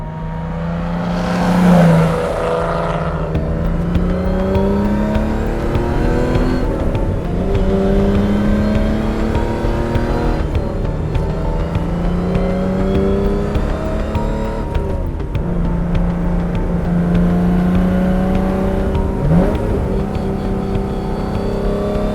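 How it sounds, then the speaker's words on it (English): A 1963 Austin-Healey 3000 MkII Sebring race car engine rising and falling in pitch as it accelerates through the gears while driving, a raspy, throaty mechanical drone heard up close and loud, with repeated upshifts and no voices. "it makes so many mechanical, raspy, throaty noises that are unique to this combination of engineering"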